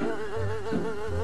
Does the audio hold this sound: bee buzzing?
yes